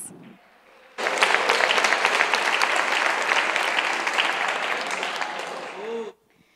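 A church congregation breaks into sudden, loud applause that holds steady for about five seconds and then stops abruptly.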